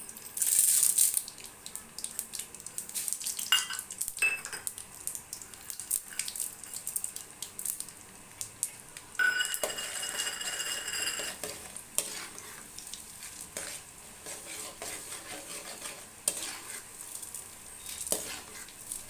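Mustard seeds with chana dal and urad dal sizzle in smoking-hot oil, a steady broadband crackle with brief louder bursts and occasional stirring clatter, no talk over it.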